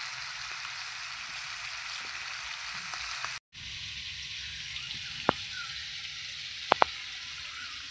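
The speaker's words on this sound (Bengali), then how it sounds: "চিংড়ি মাছগুলো ভেজে নেব।" Prawns sizzle steadily in a hot pan at a close, even level, with a brief dropout mid-way and a few sharp pops and spatters near the end; no one speaks.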